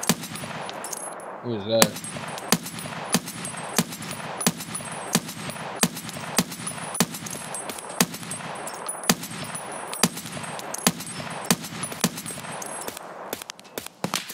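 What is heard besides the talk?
gunfire in a video game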